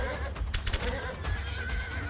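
Horses in the ARBS battle simulator video game neighing loudly and close, an overlapping whinny over a rough, busy battle background, brief and continuous with no talking.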